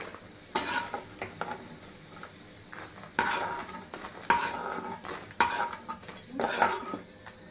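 Dry red chillies fried in oil are being lifted out of a pan and stirred, with several loud metallic clanks and scrapes of a utensil against cookware over a soft background sizzle. No one speaks.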